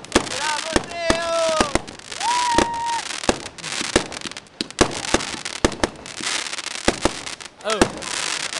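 New Year's fireworks and firecrackers bang and crackle in a dense outdoor barrage, with sharp close pops, whistling rockets and scattered distant bursts, while people cheer and talk.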